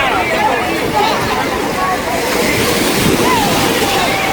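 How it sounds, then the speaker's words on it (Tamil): Sea waves surge and wash steadily onto Rameswaram beach, a continuous roar of surf with wind buffeting the microphone and a faint babble of crowd voices underneath. "பயங்கரமாக வந்து அலையை அடிச்சு கொண்டு இருக்குது"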